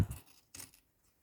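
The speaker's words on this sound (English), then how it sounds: "I'm just going to cut the strip." Scissors cutting a strip of fabric for a British rag rug, two short crisp snips close by, quiet and with no talking.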